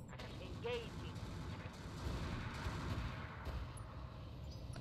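Rapid bursts of gunfire from the video game RogueTech, muffled and fairly quiet, with mechanical clicks and a steady background hum.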